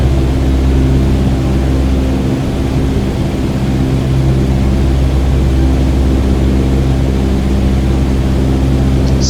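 Steady, loud propeller aircraft engine drone in Microsoft Flight Simulator 2020, a continuous low rumble with harmonic hum held under increased thrust during takeoff, with no talking.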